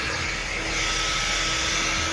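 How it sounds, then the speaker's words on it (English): A hair dryer blows steadily on high, a constant loud whooshing roar with a faint motor whine, running without pause. "My blow dryer is on high"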